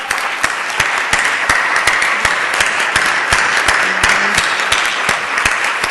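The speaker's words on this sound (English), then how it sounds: "I'd like to give them a round of applause." Dense, sustained applause from a large audience at a medical society's presidential address and town hall at ObesityWeek 2014, loud and steady throughout with no voices over it.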